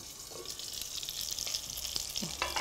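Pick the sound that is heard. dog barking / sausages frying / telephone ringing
sausages frying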